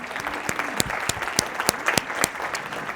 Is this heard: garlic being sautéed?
no